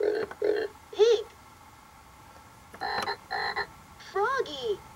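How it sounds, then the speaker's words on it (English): A VTech Turn and Learn Driver toy's frog button croaks in several short electronic bursts with pauses between, some with wobbling pitch, close and moderately loud. "Froggy."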